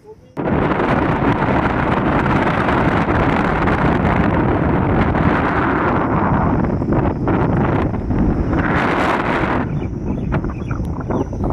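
Strong wind blows through a forest beside the beach at Bakkhali, a loud, rumbling rush that buffets the microphone and eases briefly near the end.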